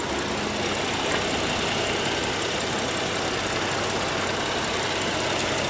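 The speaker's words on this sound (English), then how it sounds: "This is BMW's twin turbo engine." BMW X5 twin-turbo engine idling, a steady low rumble with a constant hum that holds evenly throughout, heard close with no talk over it.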